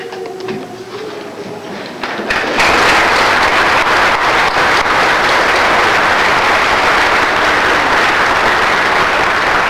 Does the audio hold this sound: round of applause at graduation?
yes